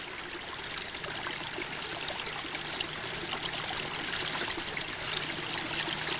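A slowly flowing stream runs steadily with a soft, continuous watery rush and light trickling, even and unbroken throughout, with no voices.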